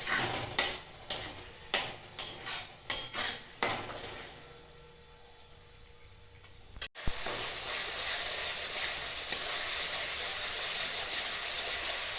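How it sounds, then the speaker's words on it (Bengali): Several sharp metal clanks of a utensil against the pan, a brief quiet pause, then a loud, steady close-up sizzle as green chili and tomato paste hits the hot oil for a cauliflower and potato curry. "এবার এতে আমি এই কাঁচা লঙ্কা টমেটো পেস্টটা দিয়ে দিচ্ছি দিয়ে আমি ভালো করে কষিয়ে নেব"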